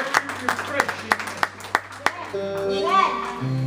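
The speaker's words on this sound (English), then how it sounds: "Somebody clap your hands." A church congregation at a Sunday service claps hands in a steady, even rhythm, about seven sharp claps close together, before a voice rises and carries on alone.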